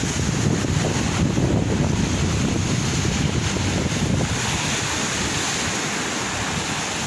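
Sea waves and wind on Ageeba beach at Marsa Matruh, with high water pounding the shore in a steady loud roar and gusts buffeting the microphone, no voices.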